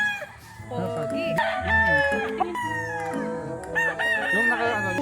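Several gamefarm roosters crow one after another, loud, close crowing calls overlapping with clucks in a busy yard, a voice talking faintly beneath.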